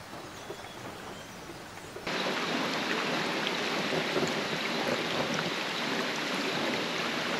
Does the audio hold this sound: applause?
no